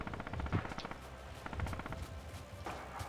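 Machine-gun fire in Red Orchestra 2, a WWII combat game, with several rattling bursts of rapid shots spread across the moment alongside other gunfire, moderately loud and continuous.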